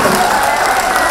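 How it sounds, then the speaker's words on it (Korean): Crowd applause at a pops orchestra concert during a garlic festival, a brief burst of dense clapping with a voice talking over it. "여러분들 박수 한번 주세요."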